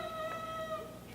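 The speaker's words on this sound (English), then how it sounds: "That's my cat, Bentley." A pet cat meowing indoors, one drawn-out, tonal meow held for about a second, close and clear against a quiet room with no talking.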